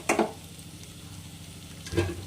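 Potol chingri, pointed gourd with prawns, being stirred in a pan before hot water is added: a soft sizzle with two brief scraping stirs at the start and end.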